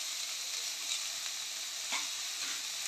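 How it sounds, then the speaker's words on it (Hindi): Vegetable upma with spices stirred in a hot pan, a continuous close sizzle with a few soft scraping stir strokes over it. "अब हम इसे मिक्स कर लेंगे अच्छी तरह से।"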